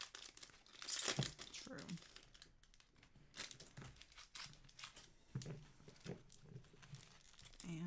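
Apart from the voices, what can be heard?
trading card packs being opened, wrapper crinkling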